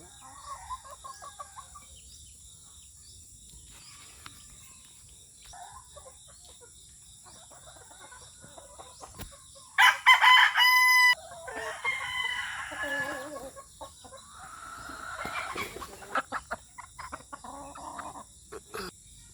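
Roosters cluck sporadically around a quiet yard, then one crows loudly and clearly mid-way, followed by more clucking and soft, distant murmurs of voices.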